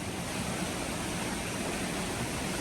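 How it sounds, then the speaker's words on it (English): A waterfall on a desert thru-hiking trail roars as a dense, steady wash of broadband noise, continuous and close with no voices. "There's a waterfall."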